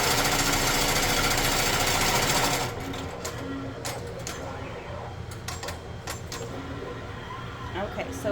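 An embroidery machine stitches an applique with a loud, dense, steady mechanical whir for about two and a half seconds, then stops, leaving quieter room sounds and scattered light clicks.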